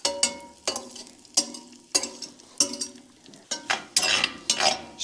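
Cooked bacon warming in a little bacon grease inside a Dutch oven, with a utensil scraping the pot. Sharp metallic strokes come at a steady, repeated rhythm, close by, over a soft sizzle.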